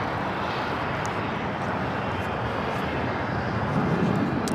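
An Airbus A320neo airliner roars on takeoff at LAX, a loud, continuous broadband jet engine rush with no break.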